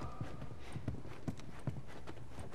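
Horses in The Last of Us video game walk along with a steady clip-clop of hooves, evenly spaced thuds at moderate distance over quiet background.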